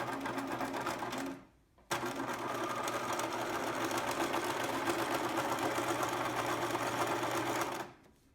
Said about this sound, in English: And I'm going to sew right over that roving